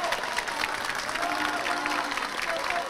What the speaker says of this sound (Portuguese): Outros aplaudiam.